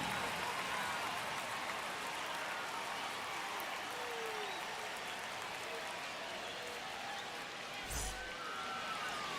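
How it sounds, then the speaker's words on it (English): Stadium crowd in the baseball video game MLB The Show 25, a steady broad roar of cheering fans before a Brewers at Yankees game, sustained and fairly distant with a brief thump near the end. "now, the crowd is amped up, ready to get this season underway"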